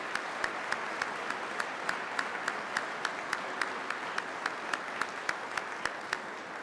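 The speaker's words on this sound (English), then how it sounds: "would you please join me in a round of applause for their appreciation?" Audience applauding at a Peace Officer Basic graduation ceremony, a sustained even wash of clapping with a few sharper individual claps standing out in a regular pattern.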